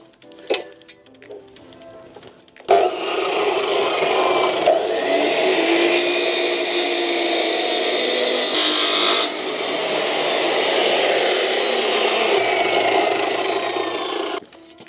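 A power saw blade cuts through material for a spare wheel mount, starting abruptly after faint handling clicks and grinding loudly and steadily for about twelve seconds, with a slight change in pitch partway through.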